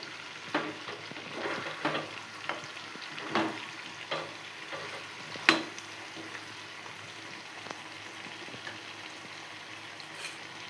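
Chicken pepper fry being stirred around a hot pan: a soft sizzle broken by repeated scraping and clacking strokes of a spoon, some louder than others, close and alone without speech.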